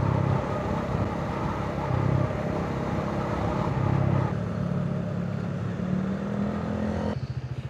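A motorcycle cruises along an expressway, its engine drone blending with a constant rush of wind and road noise that shifts slightly in pitch as it rides on.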